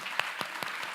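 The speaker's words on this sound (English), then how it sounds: "So can I have another round of applause?" Audience applause during a panel dialogue on Indigenous knowledge systems, heard as a steady, fairly soft wash of clapping with a few louder individual claps standing out, no voices over it.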